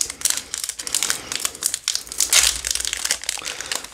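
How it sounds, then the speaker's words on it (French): Crinkly plastic foil of a Japanese Pokémon-style trading card booster pack (Force Temporelle set) crackles and rustles continuously as it is worked open up close, with bursts of crumpling and tearing. "le booster est dur à ouvrir"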